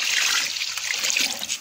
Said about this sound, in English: So you just put water,